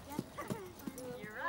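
Horse hooves clip-clop in a slow, even walk as a child rides, the footfalls close and distinct while a voice speaks over them throughout.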